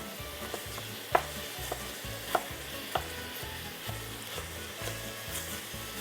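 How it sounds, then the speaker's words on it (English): Ground beef and onions fry in a pan for lasagna meat sauce, a continuous close sizzle broken by occasional sharp scrapes as the meat is broken up and stirred, with music playing underneath. "you're going to cook and you're going to break this up and get the onions all incorporated into it"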